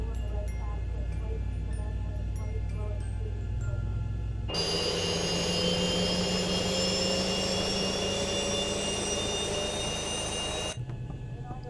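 Boeing 737 MAX 8 jet engine spooling up on start in the X-Plane 11 simulator, a sudden loud, steady turbine roar with rising whine that holds for several seconds, then cuts back to a low cockpit hum.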